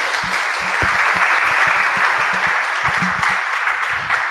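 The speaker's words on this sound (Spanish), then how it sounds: "Un aplauso," Audience applause at a portfolio and moodboard workshop, steady dense clapping close by for the full length, with a bit of speech mixed in.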